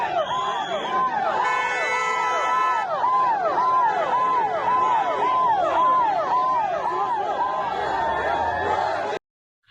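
An ambulance siren during a road show in Ahmedabad, Gujarat: a loud, close wail rising and falling in quick regular sweeps over faint crowd noise, cutting off abruptly near the end.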